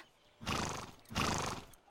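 A cartoon horse lets out two loud, strained whinnies, one after the other, each lasting around half a second, with no talking.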